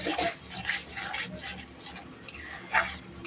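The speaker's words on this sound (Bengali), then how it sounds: "এবারে আমি মটরটা দিয়ে দেবো, সিদ্ধ করা মটরটা আমি" Boiled peas tipped into a kadai (wok), giving soft scraping and stirring rasps with a few light clinks of the pan, fairly quiet and close.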